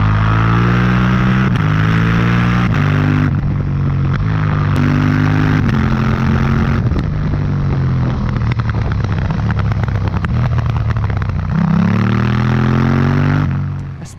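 A KTM Duke 790 motorcycle with its stock exhaust runs loud and close, its engine revving up and down through repeated throttle blips and sustained high revs, a harsh growl with clear pitch swings and no talking.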